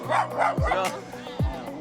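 A small dog barks sharply several times up close, short yapping bursts with a whiny edge.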